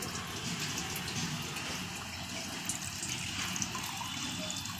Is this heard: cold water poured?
yes